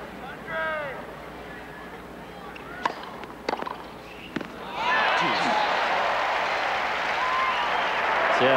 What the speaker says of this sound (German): Aufmunternder Beifall für Chang.